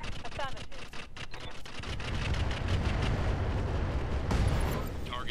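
Mech weapons firing and exploding in the Roguetech video game, a dense, continuous barrage of booming blasts and crackling gunfire at steady loudness, with a sharp burst near the end.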